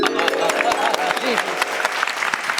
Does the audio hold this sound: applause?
yes